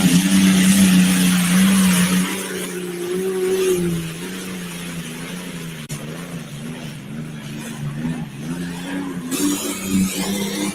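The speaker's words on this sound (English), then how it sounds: "Oh, yeah, 1940s vintage Allison V12 aircraft engine. Taking it up the hill there." A pulling truck powered by a 1940s vintage Allison V12 aircraft engine roars steadily as it is driven up a hill, a loud sustained drone that wavers in pitch, heard from a distance with crowd noise behind it.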